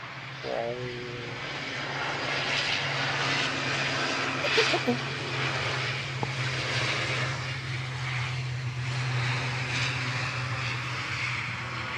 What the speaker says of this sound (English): There's the Tarn Warrior. Coming in from Inverness, GLMRA, flight 597 for Loganair.